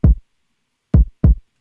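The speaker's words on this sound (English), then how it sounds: "Now let's look at this 5th kick that I added in here." A soft, pillowy rock kick drum sample hit alone, three thuds: one, then a pause, then two closer together, each short and dull with little click.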